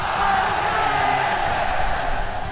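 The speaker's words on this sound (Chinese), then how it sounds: "那么在这边再次让我们欢呼 IG。" A large arena crowd roars and cheers for iG at the 2017 Dota 2 Asia Championships grand final against OG, a dense steady wall of noise throughout.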